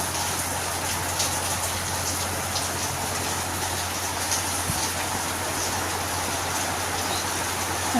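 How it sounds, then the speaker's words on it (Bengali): Heavy monsoon rain pours steadily during days of flooding, a dense, unbroken hiss of drops hitting the ground and surfaces, loud and constant throughout with no voices. "আজকে দেখুন কত জোরে বৃষ্টিটা হচ্ছে"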